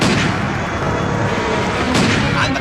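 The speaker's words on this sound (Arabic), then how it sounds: "وبيضربوا عليها رصاص" A dense, loud barrage of gunfire, blasts crowding together into a continuous roar with one sharper burst near the end.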